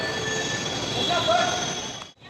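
Metro train running, a loud steady rumble with faint high wheel squeals and tonal hums, briefly dipping near the end.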